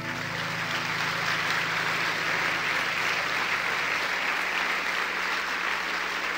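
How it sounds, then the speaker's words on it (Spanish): A congregation applauds at a church Bible study service, sustained loud clapping throughout with a low hum fading partway through. "Denle un aplauso al Señor"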